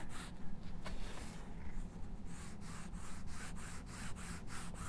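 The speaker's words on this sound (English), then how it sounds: "rub it across the embossing folder, obviously on the inside" An ink pad rubbed across the inside of an embossing folder while crafting hearts and roses, giving a close, continuous dry scrubbing with a repeated back-and-forth stroke rhythm.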